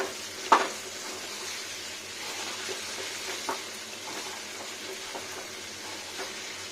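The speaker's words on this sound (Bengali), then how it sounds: "এবার ভালো করে কষিয়ে নেবো।" Chicken and potatoes being stir-fried over high heat in a pan for chicken kosha, a soft steady sizzle with a sharp utensil knock near the start and occasional scraping taps, no speech.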